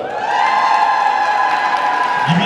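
A crowd at a rural women's association tournament claps continuously, with dense, even applause filling the whole stretch and a few faint voices rising in the background.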